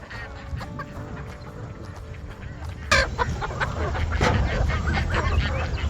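Poultry calling in a small homestead pen while animals are being moved, clucks and honking squawks mixed with ducks, a sharp louder burst near the middle, people talking throughout.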